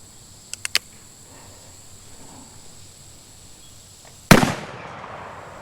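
Loud gunshot from a handgun fired on a hot day during a shooting round, one sharp blast late in the clip with a short echoing decay, preceded by a few faint clicks.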